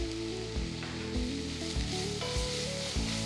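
Onions sauté in a pan with salt and turmeric for a chicken curry, producing a loud, bright close sizzle. Several thumps of stirring recur about every half second to second, with no talk.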